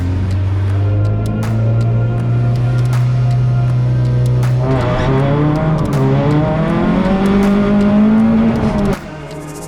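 A circuit race car launching off the starting line with wheel spin: a loud, close engine drone holds steady, then rises in pitch as the revs climb and cuts off abruptly near the end.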